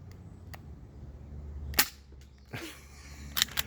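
Pistol shots fired at cans out in the woods, a few sharp reports spread irregularly with quiet outdoor air between them, fairly distant and faint overall.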